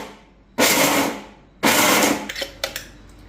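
Electric grinder pulsing dry fruits and nuts in short bursts, two loud whirring runs of about a second each followed by a few brief taps, with no talking.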